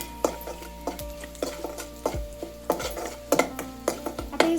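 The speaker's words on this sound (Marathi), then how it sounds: "हळद, मिरची पावडर, आता हे सगळं ना चांगलं मिक्स करून घ्यायचं." Spoon scraping and clinking against a metal bowl while stirring turmeric, chili powder and asafoetida for a traditional mango raita, a steady run of sharp, close taps and scrapes with no talk.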